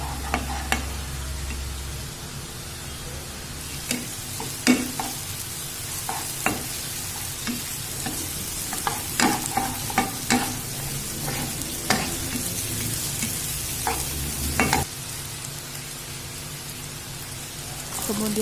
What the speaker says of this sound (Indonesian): Tumis masak hingga harum. Kemudian masukkan tomat.